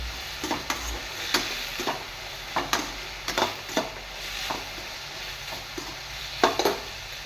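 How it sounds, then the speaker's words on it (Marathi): Pulao ingredients being sautéed in a pan, with a steady soft sizzle under repeated scraping strokes of a spoon, irregular and close, with no voices. "इकडे मी मस्त असं परतून घेणार आहे"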